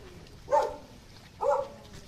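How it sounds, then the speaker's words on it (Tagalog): Two short dog barks about a second apart, moderately near, over a quiet outdoor background. "May aso."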